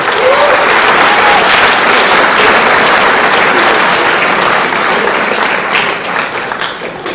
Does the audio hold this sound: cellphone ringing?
no